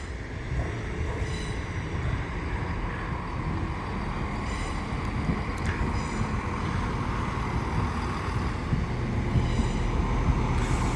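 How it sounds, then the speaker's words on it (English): A CrossCountry passenger train from Birmingham pulls into Stansted Airport station, producing a steady, moderately loud rumble and rolling noise that holds throughout with faint hiss on top and no voices. "And here's the train coming here from Birmingham"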